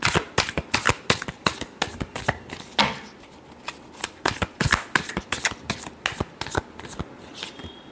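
Tarot cards are shuffled by hand in a rapid sequence of crisp riffling slaps and flicks, loud and close, with a brief pause near the third second and no talking.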